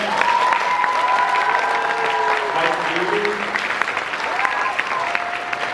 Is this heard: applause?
yes